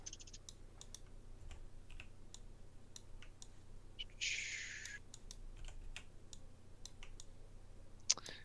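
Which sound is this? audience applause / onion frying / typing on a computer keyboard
typing on a computer keyboard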